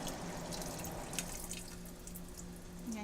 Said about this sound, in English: I'm going to pour the juice out